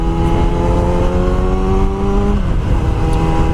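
A new bike's engine drones loudly and steadily up close, then its pitch drops as the throttle is eased back toward idle.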